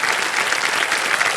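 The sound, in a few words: studio audience applauding a correct answer on KBC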